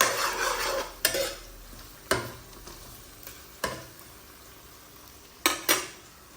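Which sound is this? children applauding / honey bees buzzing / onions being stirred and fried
onions being stirred and fried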